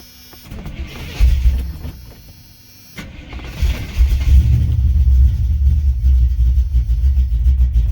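1986 Chevrolet C10 pickup engine cranking on a weak battery: a low, labored churning grinds for about a second and a half, stops, then resumes and drones steadily for several seconds, close and fairly loud, with no voices.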